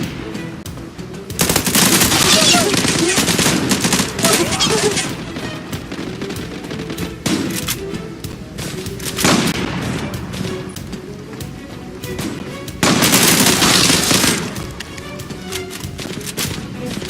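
Automatic gunfire in the Zula online shooter game, with loud sustained bursts near 1.5–5 seconds and 13–14.5 seconds, and steadier busy game noise in between.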